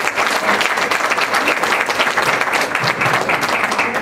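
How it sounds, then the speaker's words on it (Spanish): Dense, steady audience applause fills a conference hall on LGBTTTIQ rights, close and continuous clapping with no speech over it. "Le damos un aplauso también a Pilar y a todos los que participamos"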